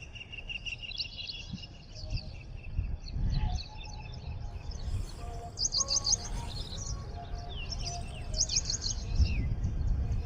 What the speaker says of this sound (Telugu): ఈ బర్డ్స్ అన్నీ నా ఆడియన్స్ అనమాట